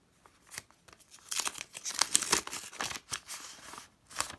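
Plastic packet of perfume gel torn open at its notch, giving a run of close, crinkly ripping bursts of uneven length with no talking.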